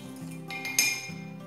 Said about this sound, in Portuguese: Dá uma misturada nos dois.